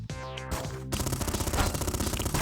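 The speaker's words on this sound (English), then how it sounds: "Somebody just shot a launcher or something." Rapid launcher and gunfire bursts from the mobile shooter game Afterpulse, loud and dense, with a rattling stream of repeated shots after an initial blast.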